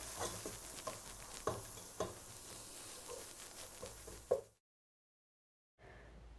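Bay leaves and chilli powder stirred in a pan for a Bengali elephant apple pickle, a steady scraping stir with soft sizzle and a few sharp clacks, then it stops abruptly into silence.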